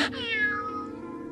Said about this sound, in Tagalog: Teka lang, ang laking pusa naman ito